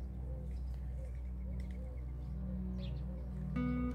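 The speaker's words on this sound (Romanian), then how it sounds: "se aud păsărelele, guguștucii" Soft, repeated turtle dove coos come at a slow, regular rhythm over a steady low background hum, with a few faint chirps mixed in, at a quiet fishing lake.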